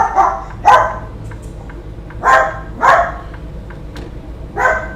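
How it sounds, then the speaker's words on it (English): A small dog of about twelve pounds barks indoors in about five sharp, fairly close yaps spaced irregularly, some in quick pairs, over a steady low background hum with no talking. "the dogs got to run around and make sure that she scared him off"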